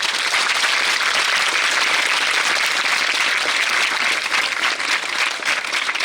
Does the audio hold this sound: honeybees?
no